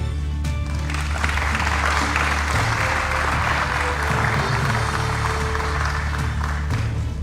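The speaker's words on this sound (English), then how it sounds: "we request the audience to applaud and welcome candidates to the stage." Steady applause from a large audience at a Nairobi gubernatorial debate fills the whole stretch, loud and continuous, with a low hum underneath.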